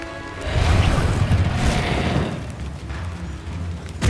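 A spell impact in Hogwarts Legacy: a heavy booming burst with crashing rumble that sustains loudly for a couple of seconds, then a second, lighter surge of magical combat noise near the end.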